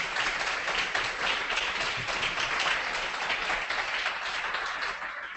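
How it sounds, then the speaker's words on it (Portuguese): Audience applause during a photojournalism workshop, a continuous dense spread of many hands clapping at moderate level, holding steady and easing slightly at the end. "Palmas para eles."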